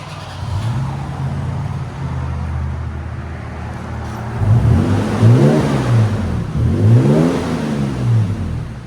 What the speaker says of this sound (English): 2022 Tacoma V6 with an accelerator muffler and a black tip.